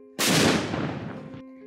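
A firecracker bursts as its packing gives way to built-up combustion gas pressure: one sudden loud bang trailing into a rough, noisy rush that lasts about a second before cutting off.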